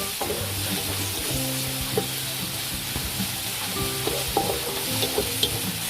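Ground pork sizzles steadily in a hot pan, close and loud, with scattered scrapes and clinks from stirring throughout and no speech.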